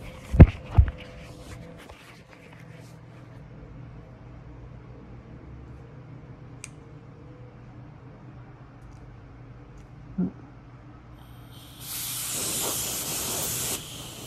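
A 3/4-inch RapidAir compressed air line, its flow dialed down at a lever cutoff, releases a soft, steady hiss of gentle mist near the end, after a long quiet stretch broken by a few sharp clicks.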